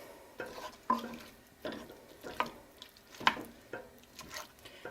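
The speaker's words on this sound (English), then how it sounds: "we're going to just brown the sausage" Turkey breakfast sausage browning in a pan, a quiet background sizzle broken by repeated scraping and tapping as the meat is broken up and stirred.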